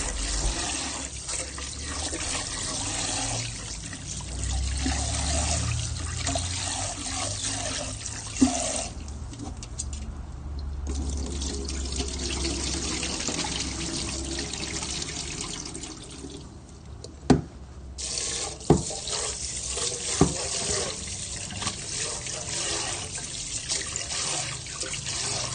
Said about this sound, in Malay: Cuci beras menggunakan air bersih.